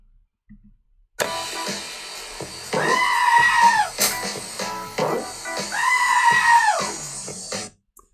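Two long, loud goat bleats ring out from a played video, each a wavering scream-like cry lasting about two seconds, set against background room noise with no talking.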